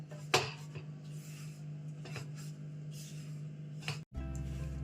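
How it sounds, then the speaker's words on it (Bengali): Besan barfi mixture stirred in a pan over low heat, a spoon scraping and rubbing against the pan bottom in soft repeated strokes with a steady low hum underneath, fairly close. "খুব আস্তে আস্তে গ্যাস কম করে নাড়া দিতে থাকবো"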